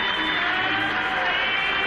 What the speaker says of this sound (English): The crowd really appreciating one of the great many pose routines tonight.